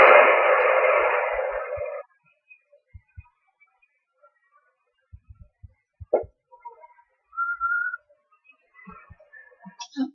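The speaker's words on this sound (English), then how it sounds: "I got a whistle." A brief, faint whistle comes through an amateur radio receiver after a burst of static hiss, surrounded by scattered clicks and near-silence.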